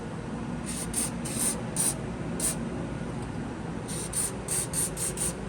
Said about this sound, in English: you're just going to want to give little sprays in certain areas with this white lithium grease